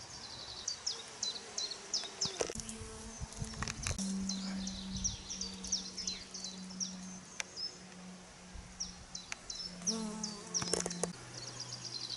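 Honey bees buzz among flowering brambles outdoors, several wings droning close and passing by in overlapping hums, with bright birdsong chirping steadily in the background.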